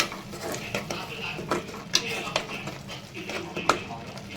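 Spoon scraping and tapping in a pan while ginger-garlic paste is stirred with turmeric and green chillies for a Telangana country chicken curry, with soft, irregular clinks and a few sharper knocks.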